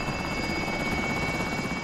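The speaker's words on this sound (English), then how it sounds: "Helicopter's coming." A Call of Duty Warzone helicopter sounds a steady, dense rotor roar, loud and continuous without letting up and without any talk over it.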